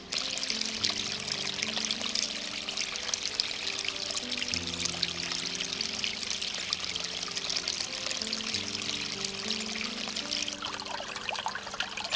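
Creek water flows and trickles continuously in a Missouri river bottom, a bright splashing wash close by with gentle babbling layered underneath.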